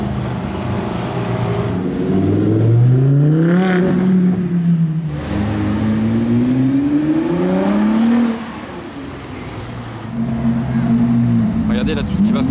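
A sports car with a large exhaust and Novitec wheels revving and accelerating, loud rising engine sweeps that climb in pitch through the gears, close by, with people talking over it.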